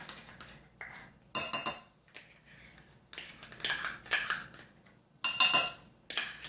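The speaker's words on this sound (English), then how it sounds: "take our spoon and make sure we get all that ketchup into our sauce" A spoon scrapes and clinks against a bowl while ketchup is worked into a sweet and sour sauce for microwave chicken, coming in several short, close bursts of scraping with quiet gaps between them.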